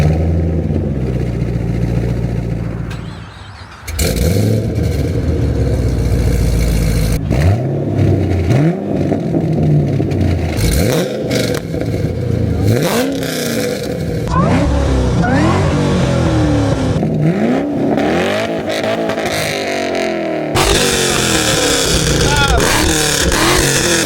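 A Camaro ZL1 and a Cadillac CTS-V with long tube headers and an MPP exhaust take turns revving, loud V8 blips rising and falling in repeated sweeps, with people talking and cheering around the cars.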